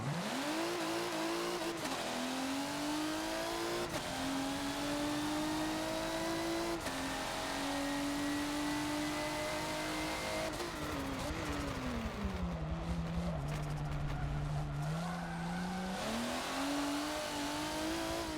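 A race car engine on a test lap of the Nürburgring GP circuit in Forza, revving steadily through gear changes, dipping under braking for a corner and climbing again, loud and continuous.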